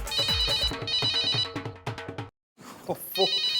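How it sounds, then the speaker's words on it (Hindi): A melodic phone ringtone plays repeatedly, breaks off briefly into silence, then resumes, with a voice talking over it. "ये गोपी भी ना अपना फोन कहीं भी छोड़ के।"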